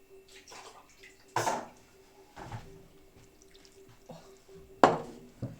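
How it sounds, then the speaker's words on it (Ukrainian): Ice-cold water splashes and trickles into cake batter in short bursts, with a couple of louder pours and soft clinks in a quiet room. "Чуть-чуть доберу води, бо це трошки замало."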